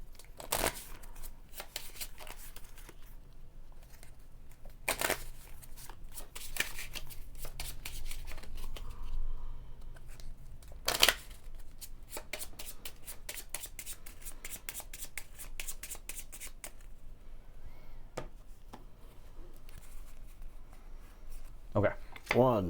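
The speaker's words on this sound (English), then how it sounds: "Shuffle and draw 3." Deck of cards for a Monty Python and the Holy Grail collectible card game being shuffled by hand, a run of crisp riffling and shuffling bursts over about twenty seconds, close by, with a few handling taps and no talk.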